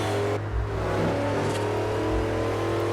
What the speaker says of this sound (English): The engine sounds of this, again, they sound actually real.